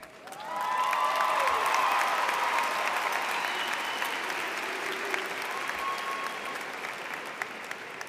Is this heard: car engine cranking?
no